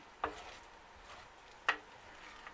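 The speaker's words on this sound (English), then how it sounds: "As you can see, I'm just continuously stirring it" A spoon stirs burrito filling in a skillet greased with bacon fat. Two soft, brief scrapes knock against the pan about a second and a half apart, quiet and close over a faint background.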